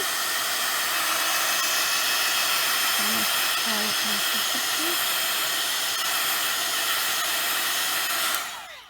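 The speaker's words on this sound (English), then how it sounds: "excuse the noise, I'm gonna use my heat gun" A heat gun blows over vellum with a loud, steady hiss and rushing air for several seconds before cutting off abruptly.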